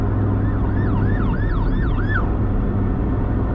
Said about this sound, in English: there's another ambulance again